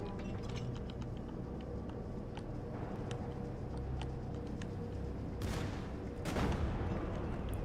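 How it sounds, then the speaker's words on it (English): Ship cannons fire in the naval roguelike game Sea of Rifts, with distant booms and a couple of sharper, louder blasts near the end. Each rises over a dense, rumbling game soundscape, with no talking. "You were right about the big cannon. Oh, they're shooting at us."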